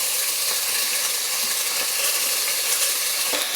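Pieces of meat browning in a hot Instant Pot for a curry give a loud, steady sizzle and hiss with small crackles throughout, close by and with no talking.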